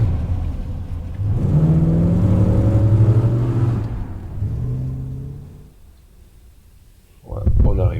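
A car engine hums and accelerates for a short drive of about 200 meters, rising then fading as it slows, with a brief burst of speech at the end.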